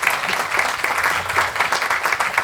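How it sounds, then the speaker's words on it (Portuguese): Audience applause at the close of a women's roundtable discussion, steady dense clapping from a crowd, moderately loud and continuous without voices. "Palmas para todos nós que estamos aqui, que ficamos até agora."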